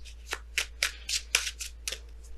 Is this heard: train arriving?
no